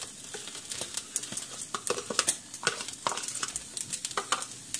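Sausage and ground beef mixture cooking in a pan, a low sizzle under frequent sharp clicks and scrapes of a utensil stirring and breaking up the meat, close and busy, with no talking.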